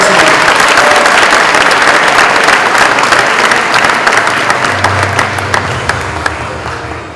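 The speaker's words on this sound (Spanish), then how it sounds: "brindamos un nuevo aplauso a nuestros estudiantes de desarrollo profesional" Loud, close applause rolls through an audience at a school anniversary ceremony at Colegio Etchegoyen in Talcahuano, honoring professional development students; the dense clapping holds steady, then gradually thins and fades toward the end.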